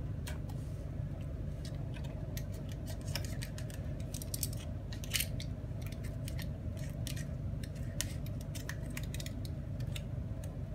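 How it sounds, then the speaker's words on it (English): Scissors snip through the blue shrink wrap on an e-bike battery pack of 18650 cells, giving a long run of crisp, irregular close cuts over a low steady hum. "Just cut this blue shrink wrap and see what it reveals."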